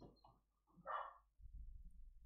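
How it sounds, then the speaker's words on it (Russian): A dog barks in a few short bursts nearby, a brief loud yelp standing out over low rumbling room noise indoors. "собака это еще лает"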